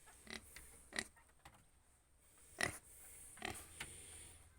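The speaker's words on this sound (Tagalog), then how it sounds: "may isang baboy sila dito" A single pig on a small Philippine farm grunts and oinks in short, separate bursts at moderate distance over a faint background hiss, with no talking.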